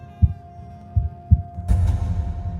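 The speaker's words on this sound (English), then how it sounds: "the heartbeat" Heartbeat sound effect in a dark dramatic film scene: three deep, loud thumps at an uneven pace, then a low rumbling swell with a brief brighter burst, all set over a steady low hum.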